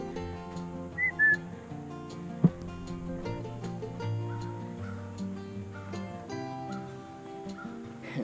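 A person whistles to call back Bailey, an off-leash dog, on an outdoor walk at Port Sheldon Open Space. Two short, sharp whistles sound close, over a steady tonal background with scattered clicks.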